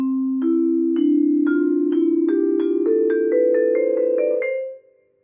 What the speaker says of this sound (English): 1-3-2-4-3-5 pattern exercise.